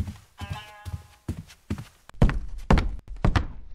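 Heavy footsteps thud through a dark horror setting in the Roblox game The Mimic, a series of loud, close, uneven stomps that grow heavier and nearer toward the end.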